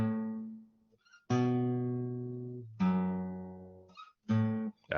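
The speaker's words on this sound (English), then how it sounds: "you've heard that progression using a simple bass line that sounds like this." A simple synthesized bass line steps through a chord progression in four sustained notes with short gaps between them, playing alone and fairly loud.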